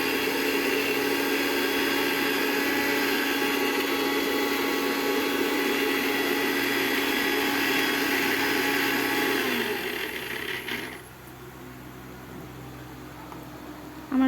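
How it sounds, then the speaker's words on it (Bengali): Garlic grinding in an electric mixer grinder makes a loud, steady motor whir with rattling that runs for about ten seconds, then winds down and stops, leaving near quiet. "এদিকে হালকা করে রসুনটাকেও বেটে নেব।"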